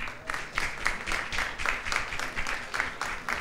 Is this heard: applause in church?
yes